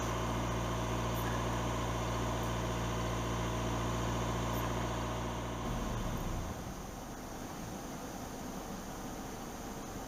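A steady low engine idle from a gasoline direct-injection car engine after intake valve cleaning, with broadband hiss, rumbling continuously, its tone growing rougher and more uneven partway through; no voices.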